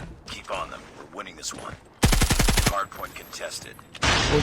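Bursts of rapid automatic fire from an HG 40 submachine gun in Call of Duty Mobile, loud and close, breaking in between stretches of excited talk.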